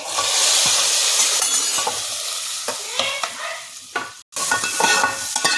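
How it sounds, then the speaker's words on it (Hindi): Hot spiced tempering poured into a pot of masoor dal, loud continuous frying sizzle and hiss that flares strongly at first, cuts out briefly near the end, then crackles back up, with no talking. "अब डाल देंगे इसमें, बघाड़ देंगे दाल को"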